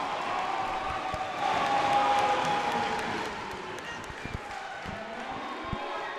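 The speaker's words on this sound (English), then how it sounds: "Listen to this crowd." A crowd cheers and applauds in a gymnasium during a tight college volleyball match between Menlo College and Westmont College, the roar swelling at the start and then settling into a steady sustained din, with occasional sharp thumps and a ball bounce.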